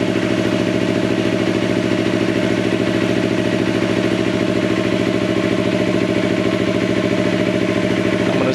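A loud, steady Yamaha YZF-R3 sport motorcycle engine idling up close with no exhaust baffle, its rapid throbbing pulse unbroken and even throughout.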